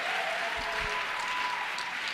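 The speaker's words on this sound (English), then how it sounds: "You can clap hands." Students at a school gender-based-violence prevention dialogue clap their hands in a steady, dense burst of applause across the whole moment, with no talk over it.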